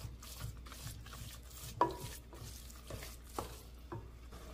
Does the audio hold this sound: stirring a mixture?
yes